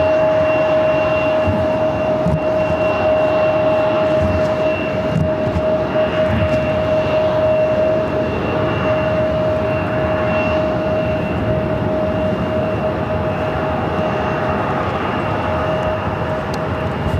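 Boeing 737 MAX 8 airliner arriving from Kansas City at Phoenix airport, a steady loud engine roar with a constant whine running throughout, heard from nearby and uninterrupted.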